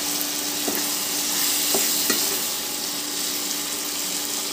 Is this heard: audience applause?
no